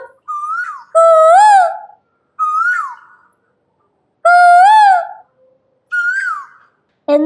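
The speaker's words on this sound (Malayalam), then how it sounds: "കുയിലുകളുടെ ശബ്ദം" Loud, clear whistled koel calls repeating in rising phrases, each separated by a short pause, with nothing else in the background.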